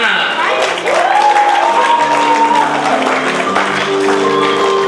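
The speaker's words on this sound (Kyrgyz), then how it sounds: "Кол чаап коелу." A crowd at a Kyrgyz poetry and song evening claps loudly and continuously, while a voice talks and a tonal line rings above the steady applause.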